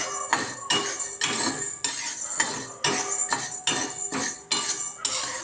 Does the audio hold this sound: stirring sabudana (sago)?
yes